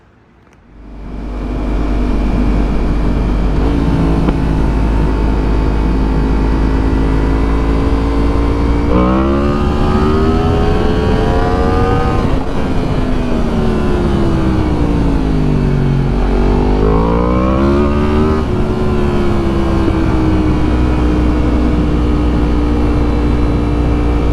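A 2023 Yamaha MT-10 motorcycle fitted with Pyramid Plastics parts rides out on the road, its engine loud and close, droning steadily with rising and falling revs through gear changes.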